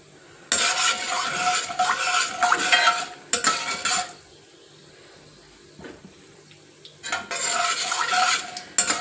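Mustard seeds, chana dal and urad dal fry in oil with cumin for a broad bean curry, heard as bursts of crackling, spatter and stirring scrapes in three loud stretches with quiet gaps, no talk.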